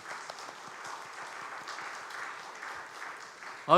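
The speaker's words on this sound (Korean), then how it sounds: "우리 다섯 분 앉아 있는 부부를 박수 한번 하겠습니다" Soft, sustained applause from a church congregation clapping for married couples, fairly distant and even for several seconds before a louder voice breaks in at the end.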